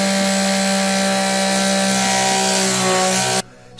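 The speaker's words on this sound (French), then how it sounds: "Mais j'ai encore fait du ponçage du coup" Sanding the wooden goals of a foosball table makes a loud, continuous abrasive grinding with a steady motor-like drone. It runs without a break for over three seconds, then stops abruptly.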